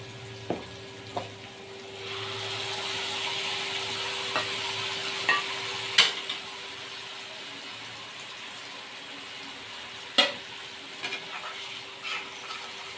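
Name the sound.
onion paste frying and being stirred in oil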